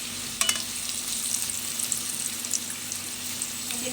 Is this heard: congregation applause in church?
no